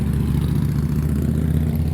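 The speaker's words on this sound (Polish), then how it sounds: "O, junaki jadą." Junak motorcycles ride past with a loud, steady, low engine rumble that holds evenly throughout, with no talking over it.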